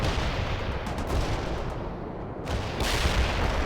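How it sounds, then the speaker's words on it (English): Artillery strike in the real-time strategy video game World in Conflict, heard as a dense, continuous roar of gunfire and explosions that fills the whole stretch with no pause. "Artillery strike successful."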